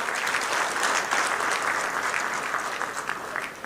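A crowd at an event claps for a sponsor, with dense, even applause from many hands holding steady for several seconds before tapering slightly.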